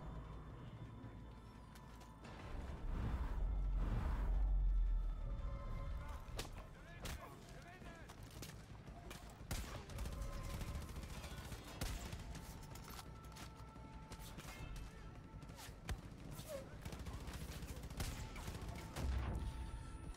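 Explosion and gunfire in the video game Far Cry 5: a deep booming blast followed by scattered sharp shots and cracks, with a low rumble and faint talk underneath.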